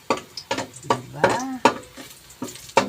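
Chicken and garlic are sautéed in a pan, with a rhythmic series of close scraping clacks from stirring, each short and sharp, and a brief vocal sound in the middle.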